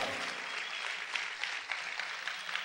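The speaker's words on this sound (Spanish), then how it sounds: "Aplaude fuerte al Señor." A church congregation applauds during a worship service, a steady, fairly distant patter of many hands clapping at even strength without voices.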